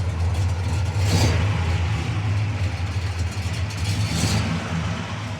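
A 1966 Pontiac Le Mans with a 4-speed manual and dual exhaust rumbles loudly and up close, its engine swelling in two brief revs over a deep, steady low drone.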